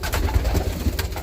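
A brown roller pigeon coos close by, soft low throaty murmurs repeating in a quick bubbling run over about a second.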